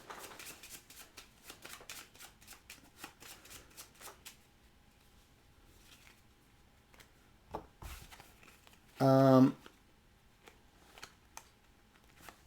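A rapid run of riffling shuffles of cards from the board game Subatomic, close and crisp, followed by quieter handling noises and a brief loud tonal beep.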